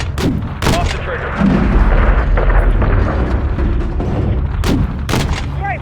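Missile strike and gunfire in Call of Duty: Modern Warfare III, with dense, loud bursts of shots and heavy booming impacts repeating throughout over a rumbling battle background, with voices mixed in.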